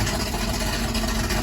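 A 1978 Pontiac Trans Am Firebird engine idles lumpy and loud up close, with a rough, uneven throb that runs steadily.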